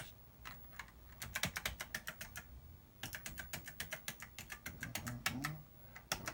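Keys on an Apple IIc computer keyboard clatter in two quick runs of crisp clicks at close range, with a short pause between them and no voices.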